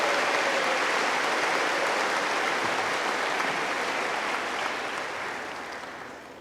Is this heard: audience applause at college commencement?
yes